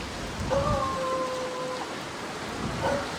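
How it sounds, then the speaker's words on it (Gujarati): Steady rain pours down during a storm in Mumbai, a dense, even hiss with a faint tonal whistle drifting through it. "જો વરસાદનો અવાજ આવે ભીનું થઈ ગયું"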